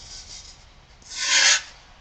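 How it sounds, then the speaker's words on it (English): Hand sanding on a carved tooling-board fuselage gives a short, soft rasping stroke that swells to one louder, brighter pass near the end. "you'll be sanding one way over here, maybe pushing this way, and then sanding a little different"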